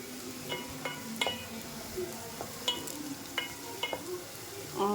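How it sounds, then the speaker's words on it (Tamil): Onions fry for a Tamil tomato kulambu with a soft, steady sizzle in a pan, browning, punctuated by occasional clinks and scrapes of a utensil stirring, close and fairly quiet. "கொஞ்சம் சலசலன்னு வெங்காயம் வதக்கும்போது கொஞ்சம் சலசலன்னு ஒரு மாதிரி சத்தம் கேட்க ஆரம்பிச்சிக்குது"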